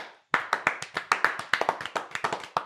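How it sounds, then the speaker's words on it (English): A small group of people in a podcast studio claps hands in a quick, steady rhythm of about a dozen sharp, close claps that starts after a brief silence. "What are we clapping?"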